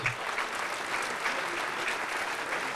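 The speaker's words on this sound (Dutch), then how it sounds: "Eén keer groot applaus voor jullie alvast nog." An audience at a municipal sports awards ceremony in Venray applauds three female athletes with steady, dense clapping that holds evenly at full strength throughout, with no voices standing out.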